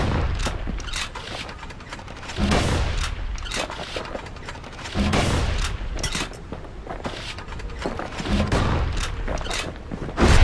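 Gunfire from the kid's gun in the video game Bastion, repeated loud bursts of shots in a rapid, uneven rhythm with booming impacts between them, heard without talk.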